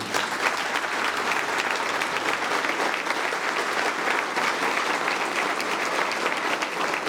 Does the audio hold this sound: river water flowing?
no